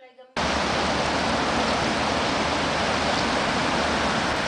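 The Kishon stream flows as a dense, continuous rushing wash that starts abruptly after a brief moment of voice and then holds steady and loud.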